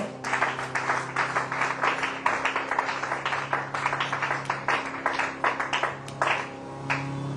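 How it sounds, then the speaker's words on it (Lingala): A church congregation claps loudly and steadily in praise of the Lord, dense rhythmic applause filling the room from start to finish with no clear talk. "On va acclamer dans très fort le Seigneur."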